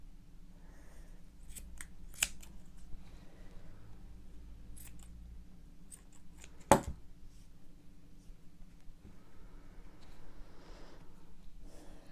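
Scissors snip crochet yarn ends on a handmade bookmark in a quiet room: a few soft, close cuts, with one sharper snip standing out in the middle and faint handling noises between.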